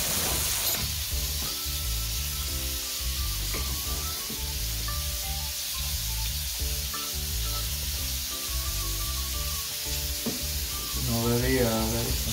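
Salt and pepper shrimp fry in a pan with a constant bright sizzle, while a voice murmurs faintly beneath and occasional clatters of utensils punctuate the hiss.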